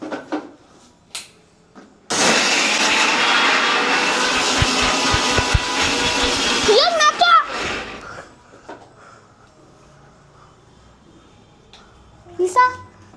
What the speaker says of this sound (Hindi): गाइस मैंने इसको मिक्सर पे डाल दिया छोटे छोटे पीस करके